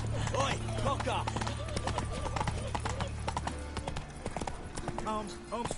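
Hooves of the horse Roach in The Witcher video game clip-clop in a steady rhythm with an occasional whinny, under game dialogue and ambient sounds.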